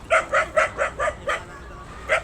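A dog barks in a series of about seven quick, loud yipping barks close by in a burned-out neighborhood in Zapote, Bacoor, with a short pause before the last one.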